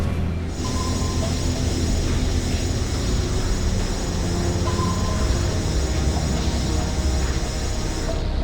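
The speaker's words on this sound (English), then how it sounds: "There's a military transport train that runs past the lab." A military transport train in the Tomb Raider Legend video game rolls past a lab, giving a steady, continuous rumble and rattle of wheels and cars at constant loudness with no break.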